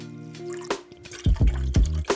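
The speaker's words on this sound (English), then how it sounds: "into your pan, put equal parts or roughly vinegar and water" Vinegar and water are poured into a pan in a kitchen, with a few splashing glugs and drips landing close by after a quiet start.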